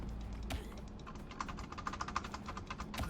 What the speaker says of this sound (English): I'm playing on keyboard.